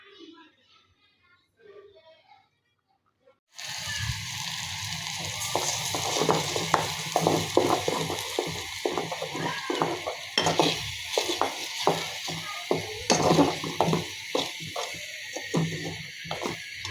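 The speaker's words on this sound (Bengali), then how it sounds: "এটা আমি এখন ভালোভাবে হালকা তেলের সাথে একটু ভেজে নিব" Vegetables frying in a little oil in a home kitchen, a steady broadband sizzle with repeated scraping stirs of a utensil against the pan, starting abruptly after a quiet moment and continuing close and loud.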